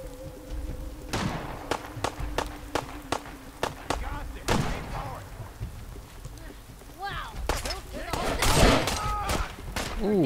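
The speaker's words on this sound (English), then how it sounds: "Oh, what's that? Gunfire." Bursts of gunfire crack in Fallout 4, starting as sharp separated shots and building into denser rapid volleys toward the end, moderately distant and mixed with in-game ambience.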